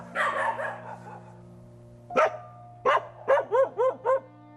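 Feral dogs barking at night in a mountain area, a close loud opening burst followed by a pause, then a quick run of five or six sharp, evenly spaced barks with no voices.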